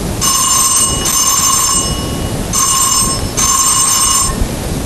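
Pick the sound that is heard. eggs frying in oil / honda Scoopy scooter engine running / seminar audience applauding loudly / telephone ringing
telephone ringing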